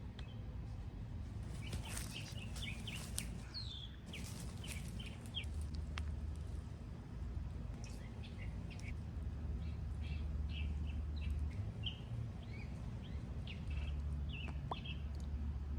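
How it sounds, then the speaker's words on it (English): A songbird trills and chirps in repeated short bursts outdoors, fairly faint against a low steady background rumble, with no talking. "You guys just hear that beautiful bird"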